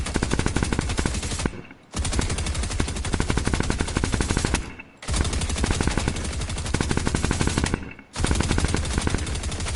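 Sustained automatic gunfire in the video game Fortnite, loud rapid bursts of shots lasting a few seconds each, separated by brief pauses.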